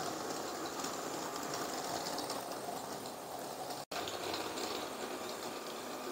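A motorized Lego Passenger Train 60337 running on its track, giving a steady, faint mechanical whir of the motor and wheels that continues without a break and with no voices.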